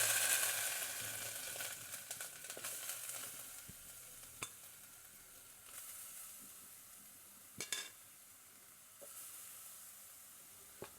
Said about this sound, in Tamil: நெய் நல்லா சூடாயிட்டோடனே நம்ம திருவி வச்சுக்கிற இந்த தேங்காவை அதில் போடுவோம்